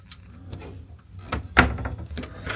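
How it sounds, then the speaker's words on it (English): A storage drawer in a Junior Balcony cruise cabin on the MSC Divina slides and bumps shut, a single close knock with a short rattle, amid faint room noise and small handling sounds. "And then you have drawers here to put a bunch of stuff in"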